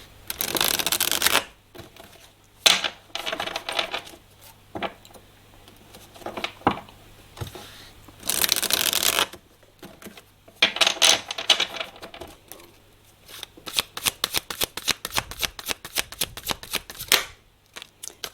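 Tarot cards being shuffled for a reading, bursts of crisp riffling and flapping card sounds in quick repeated runs separated by short quiet pauses, close and clear with no talking.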